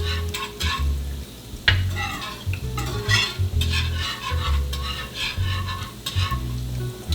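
Garlic frying in butter in a pan, a steady close sizzle broken by quick, rhythmic stirring and scraping strokes of a utensil against the metal, no voices.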